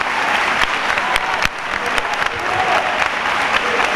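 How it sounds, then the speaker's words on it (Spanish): Crowd applause at a religious procession marking the 791st anniversary of the apparition of the Virgin, la Morenita, as the carried image comes to rest; dense, steady clapping fills the whole stretch with a few sharper individual claps. "Un gran aplauso."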